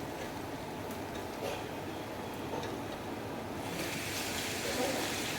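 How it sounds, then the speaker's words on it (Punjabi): Continuous broadband rushing of water poured into a pot of potato and soybean curry, fairly close and steady, swelling slightly louder toward the end. "ਹੁਣ ਆਪਾਂ ਸਬਜ਼ੀ 'ਚ ਪਾਵਾਂਗੇ ਪਾਣੀ"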